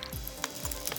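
Ghee sizzles in a hot pan while chicken reshmi kabab is cooked: a steady, soft, close hiss with no talking.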